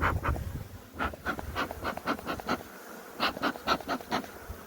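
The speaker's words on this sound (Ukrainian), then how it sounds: "Бджолники сидять плотно, гарненько." Honeybees in an opened hive on a beekeeping trip give off a buzzing hum in a series of short pulsing swells, close and moderately loud, with no talk.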